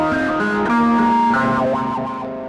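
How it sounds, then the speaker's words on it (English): Guitar notes play through the distortion of a mid-range multi-effects pedal, loud and gritty, with a wavering bend near the end as the sound tails off. "And it's got lots of distortion options to choose from."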